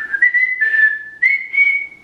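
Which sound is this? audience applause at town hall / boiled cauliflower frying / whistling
whistling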